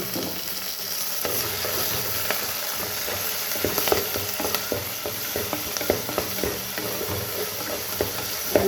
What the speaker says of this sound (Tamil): எண்ணெய் கொதிக்குது